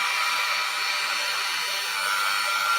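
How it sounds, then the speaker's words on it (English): A hair dryer blows continuously at close range, a steady loud hissing whoosh with no pauses or changes. "blow dryer is actually going, can you guys hear me over that?"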